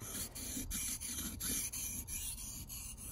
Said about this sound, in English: sharpening the blade up.